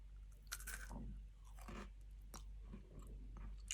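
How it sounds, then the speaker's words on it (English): A child bites down on a small cracker held inside a bite tube, giving a few soft, close crunches and chewing sounds scattered over a low steady hum. "I'm using this little cracker. It goes nicely inside the hole, and I ask the child to bite"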